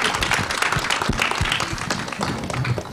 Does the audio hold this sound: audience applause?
yes